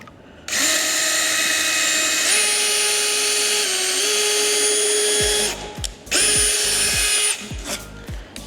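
A DEWALT power drill whirs steadily for several seconds, pitch shifting under load, then stops and gives a few short bursts as a screw is driven into pallet wood.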